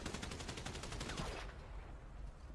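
Rapid burst of automatic gunfire in a GTA roleplay game, a steady rattle of evenly spaced shots for about a second and a half, then fading into a noisy tail with no voices.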